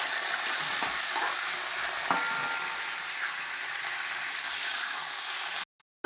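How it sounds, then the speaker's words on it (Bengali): Cauliflower florets fry in oil left over from frying fish, a dense continuous sizzle with stirring knocks, ending abruptly in silence. "এই মাছ ভাজার তেলেই আমি কপিগুলো দিয়ে দিচ্ছি"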